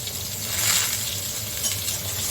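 Potatoes and moringa drumstick pieces sizzle in a pan of hot oil, giving a steady, fairly quiet hiss with faint clinks and no talking.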